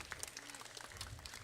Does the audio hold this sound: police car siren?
no